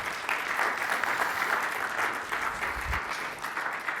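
Conference audience applauding after a presenter's talk on live streaming, a steady wash of many hands clapping for about four seconds at moderate level, with no voices over it.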